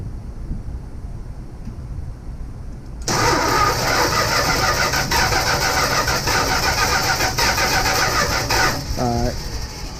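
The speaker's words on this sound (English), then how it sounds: "All right, now spin it over." The starter on a 1965 Plymouth Barracuda, left sitting for three years, cranks the engine over steadily for several seconds without it catching, loud and close.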